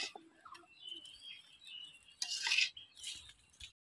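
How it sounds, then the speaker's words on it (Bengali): Fried grass pea greens scraped from a pan into a bowl, a few light metallic clinks and scrapes of a utensil against cookware, faint and close. "এবার আমি শাক একটা বাটিতে নামিয়ে নিব।"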